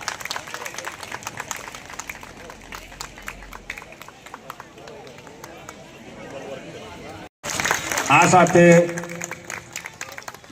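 A crowd at a community award ceremony honoring top students claps in a loud, scattered burst with a voice over it. After a brief cut, amplified music with sustained tones follows.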